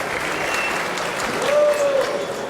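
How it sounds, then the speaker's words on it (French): A crowd at a pétanque match in the Trophée des Villes 2013, Auch against Dreux, applauds the referee. The clapping is dense and steady throughout, swelling slightly near the end, with a thin whistle-like tone running through it. "Vous devriez applaudir monsieur l'arbitre."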